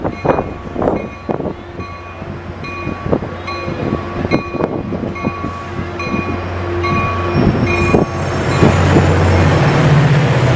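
A train runs past nearby on the line between Millbrae and Sunnyvale, California. Its wheels clack rhythmically over rail joints, then a loud rumbling roar swells as the cars go by, with no talking.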